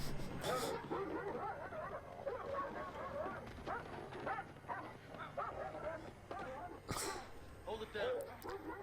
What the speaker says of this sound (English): Don't hurt the doggo.